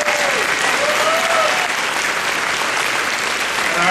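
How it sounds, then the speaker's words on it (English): An audience at a Capital Day speaking event in Columbus applauds steadily and fairly loudly, a dense continuous clapping with a few voices heard faintly beneath it. "Give her a round of applause."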